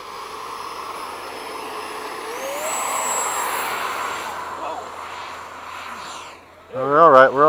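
An Eflite 80mm F/A-18D radio-control jet on a takeoff run: a steady, loud electric ducted-fan roar with a rising whine, swelling and then fading, followed by a burst of talk near the end.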